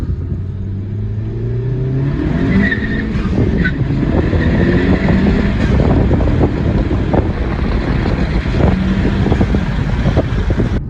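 A 2019 Honda Civic Si engine with a cold air intake pulls hard in first gear, a steady loud drone rising in pitch as it accelerates, with wind buffeting the microphone throughout.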